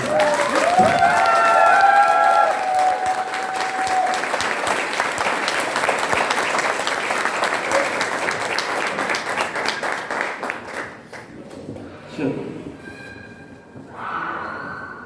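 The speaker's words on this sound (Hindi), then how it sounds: "एक बार जोरदार ताली अपने लिए बजा कर" An audience at a business seminar claps in loud, sustained applause that gradually thins out and fades toward the end, with a few scattered sounds after it dies down.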